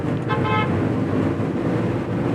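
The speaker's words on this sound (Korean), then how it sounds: "또왜 빵빵거리는 거야?" A car horn toots briefly amid road traffic in Ulsan, heard near a 2017 Genesis, a short bright honk early on over steady engine and roadway noise.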